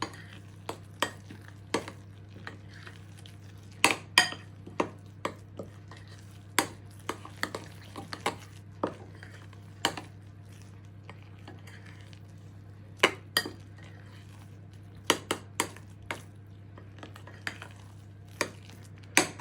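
A spoon clinks and scrapes against a bowl while Simply Green Mexican-style bean bake mix is stirred, giving irregular sharp taps and knocks over a steady low hum, fairly close.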